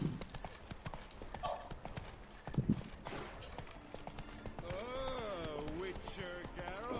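A horse gallops in a video game, its clip-clop hooves beating in a rapid, steady rhythm throughout, with a brief whinny-like tone and a voice speaking over it.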